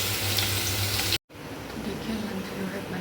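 Potato and eggplant curry sizzles loudly in hot oil with spice tempering, a steady close crackle broken by a brief gap, then continuing more softly.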